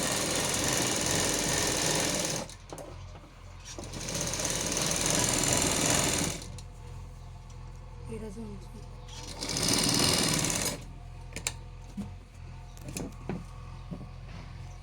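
Sewing machine stitching lining pieces for a long frock, loud steady whirring runs in several bursts of a few seconds each, separated by pauses with faint clicks and handling sounds, close up.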